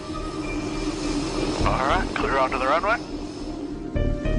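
Combat aircraft take off for battle with a continuous, loud engine roar that rumbles steadily beneath a narrator's voice.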